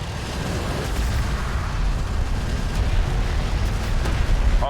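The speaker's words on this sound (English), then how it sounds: "Hostile range craft destroyed." A hostile ranged craft blowing up in the sci-fi strategy game Homeworld: Deserts of Kharak, a loud, sustained rumbling explosion with dense low-end roar that persists throughout, no voice over it.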